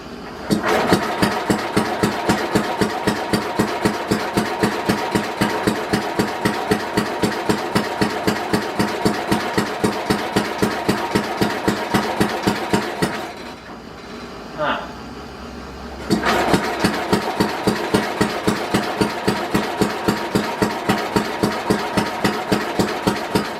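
A 1967 Simplicity Landlord lawn tractor engine runs in a steady, rapid mechanical chug that cuts out for about three seconds with a brief sputter, then catches again and keeps pulsing close by.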